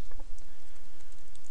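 Rapid typing on a computer keyboard while configuring a Juniper SRX firewall, soft clicking keystrokes close by over a steady background hum.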